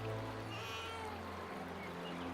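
A cartoon baby cries from a basket by the river, a thin wailing cry over steady flowing-water ambience, fairly faint and continuous.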